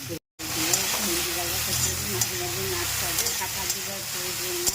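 Okra frying in oil over a lowered gas flame gives a steady hiss and sizzle with a few light clicks of stirring, after a brief dropout at the start. A voice talks over it.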